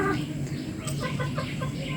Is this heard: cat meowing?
no